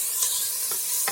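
Tomato frying in a pan for a Tulu-style fish curry, a steady bright sizzle with a few short stirring scrapes, close and moderately loud, no talking.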